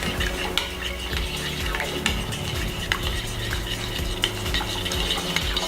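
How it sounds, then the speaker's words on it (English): A spoon stirs homemade Caesar salad dressing of extra virgin olive oil and vinegar in a bowl, giving repeated scraping and clinking strokes in a steady rhythm, close and clear with no talking. "now I'm just stirring it thoroughly"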